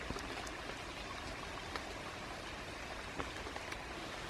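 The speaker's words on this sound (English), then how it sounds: "That's a spring pouring, or the main spring running down. That's that noise." Spring water pouring and running downhill outdoors in autumn, a steady broadband rushing wash with scattered splashy drips throughout, close and fairly loud with no talk.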